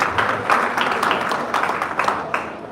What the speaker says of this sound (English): please once again give a round of applause to Miss Nene Mendy